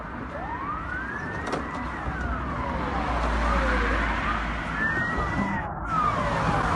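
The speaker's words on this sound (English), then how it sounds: "Ambulances and fire trucks rushed toward the oil refinery." Several emergency sirens wail and sweep up and down at once, ambulances and fire trucks rushing toward an oil refinery after explosions, sounding from a moderate distance over a steady low rumble of traffic.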